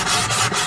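Wood is sanded by hand in a rear garage where airline rails are being fitted, giving short repeated rasping strokes, close and loud with no talk.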